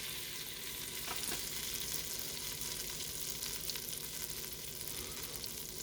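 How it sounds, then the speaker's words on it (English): Butter melting in a hot pan gives a steady, moderately quiet hiss and crackle that holds evenly throughout, with no voices. "So we're going to let that butter melt."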